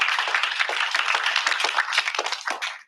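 An audience claps for a student team at an Aggies Invent pitch event, a dense, bright round of many hands that holds steady, then thins and stops abruptly.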